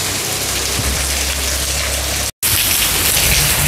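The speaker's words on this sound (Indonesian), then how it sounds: "sambil menikmati hujan" Rain falls steadily, a dense, even patter of drops on surfaces that stays loud throughout, cut by one brief dropout of silence near the end before the downpour resumes.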